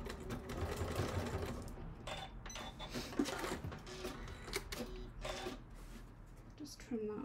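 A sewing machine stitching a bag, bursts of rapid mechanical chatter starting and stopping in short runs, with quiet talk in between.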